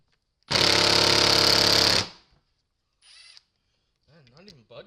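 Air impact gun on a T27 bolt of a high-mileage Ford 5.4 3V oil pump: one loud, steady mechanical burst of about a second and a half that stops abruptly, followed by brief faint clicks and a few spoken words.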